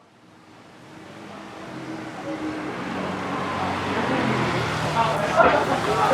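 Dense street traffic on a busy Taipei road packed with scooters, a steady roadway roar that builds from quiet to a continuous wash of engines, with voices talking over it.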